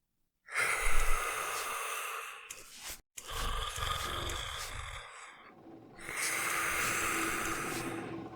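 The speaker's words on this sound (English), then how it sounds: "It has this very, very loud breathing, which creates a very tense atmosphere as you try and sneak past it." A monster in a stealth video game breathes loudly and raspily in three long, heavy bursts separated by short pauses, close and ominous with nothing else heard.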